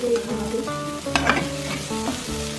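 A spatula stirs and scrapes spicy egg bhurji stuck to the bottom of a frying pan, giving close, loud scraping strokes over a continuous sizzle, with faint tonal music beneath.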